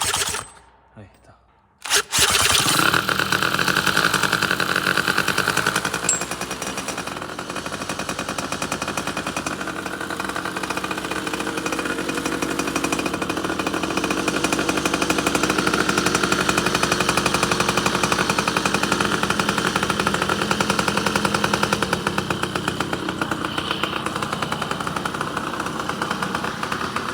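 A carburetted small engine starts after a brief pause, then runs steadily and loudly at a fast, rough idle while warming up, a continuous buzzing drone close by for over twenty seconds.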